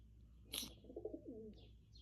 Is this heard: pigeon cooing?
yes